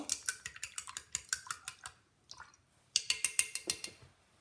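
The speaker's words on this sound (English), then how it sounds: "I'm going to take this brush, rinse it well" A paintbrush being rinsed in water, with rapid, regular tapping and clinking, likely the brush knocking against a container. A short pause falls in the middle before another quick burst of taps.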